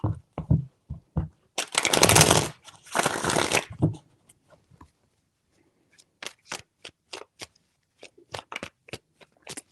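Tarot cards are shuffled in a few quick riffling bursts, followed by soft scattered taps and flicks of cards being handled, close up and quiet.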